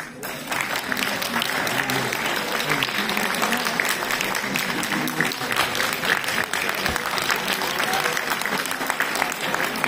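An audience applauds a singer at a concert, with dense, sustained clapping and crowd noise that continues at a steady level throughout.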